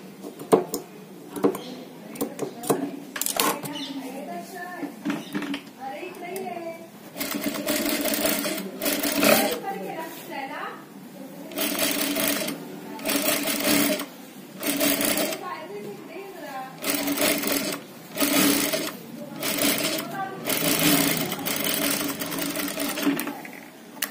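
Sewing machine stitching a cotton sleeve, rapid mechanical rattling in repeated bursts of a second or two with short gaps, fairly quiet and close, with someone speaking over and between the runs.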